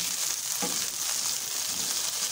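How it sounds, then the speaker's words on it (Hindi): Okra (bhindi) frying lightly in about two spoons of hot oil in a pan for masala bhindi, a steady close hiss with a brief clatter as the pieces settle. "अब हम इसमें अपनी भिंडी डालेंगे। डाल दी, हल्का फ्राई करेंगे।"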